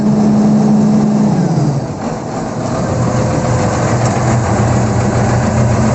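A Volvo excavator's diesel engine idles loudly and steadily up close, a low droning hum that dips briefly in pitch before settling back to an even rumble.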